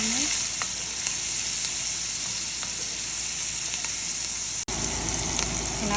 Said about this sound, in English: So we're going to saute the onions.